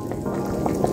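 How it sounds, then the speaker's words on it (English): Chicken feet soup with dumplings bubbling in a pot, close soft blips and pops over a steady liquid simmer. "My soup is bubbling away nicely."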